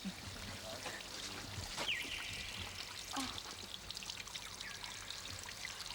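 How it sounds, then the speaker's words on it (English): Spring water flows in Puerto Rico, a quiet steady trickle and pour running throughout, with faint distant voices and small splashes now and then. "Spring water. If you want to touch the water, you can do it."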